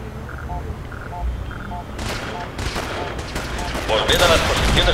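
Gunfire in the video game Fallout 4: an electronic beeping pattern gives way to loud bursts of rapid shots and heavy blasts that build toward the end, with someone talking over the action.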